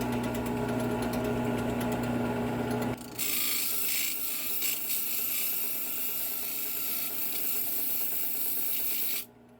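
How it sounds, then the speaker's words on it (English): Rock edge being sanded on a coarse 50-grit wheel while shaping a stone butterfly, a steady motor hum shifting into loud gritty abrasive hiss that runs for several seconds before cutting off. "I'm just going to use the coarser one, which is a 50 grit, just to sand this edge down"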